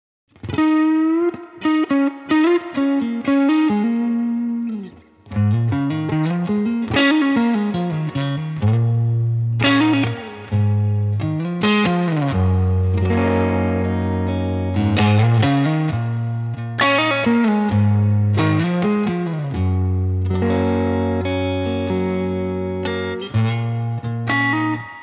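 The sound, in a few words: instrument played through effects with reverb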